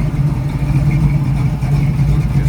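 The 351 Cleveland V8 in a jet black 1940 Ford Coupe hot rod runs at a steady, low, rumbling idle, close and continuous, with no talk.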